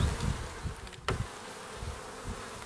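Honeybees buzz steadily inside a beehive fitted with a partition board, a dense, continuous hum close up with a brief knock partway through.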